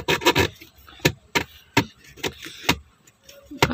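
A universal armrest mount is fitted into the seat of a 2017 Toyota Sienta by hand, with no tools. Sharp plastic clicks and knocks come at irregular intervals, along with scraping and rubbing between them, all close and fairly loud.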